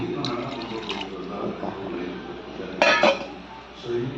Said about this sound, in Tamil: அரிசி கழிஞ்சு வச்சுருக்க தண்ணி தான் கொஞ்சம் சேர்க்குறேன்.